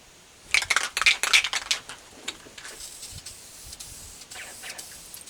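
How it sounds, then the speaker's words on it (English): Short hissing bursts from an aerosol spray can, several quick sprays close by, followed by fainter, more scattered hissing. "You know what spray painting looks like."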